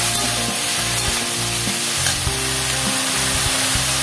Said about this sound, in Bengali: এবার এটাকে আমি একটুখানি নাড়িয়ে ভালো করে এপিট এপিট করে একটুখানি ভেজে আমি নুন হলুদ দেবো